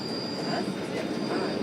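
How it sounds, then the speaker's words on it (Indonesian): Argo Wilis passenger train rolling through the Kadungora curve, a steady loud rumble of wheels on rail with a thin high squeal from the wheels, continuous with no talking. "Kita dapat melihat ujung depan rangkaian kereta api Argo Wilis hingga ke lokomotif"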